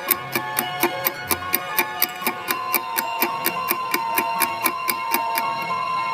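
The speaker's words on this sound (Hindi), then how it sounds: "लेकिन यश की घड़ी आवाज नहीं कर रही थी।" A watch ticks steadily and close in a sound effect for a ghost story, sharp evenly spaced clicks about every quarter second over a soft musical background, with no talking.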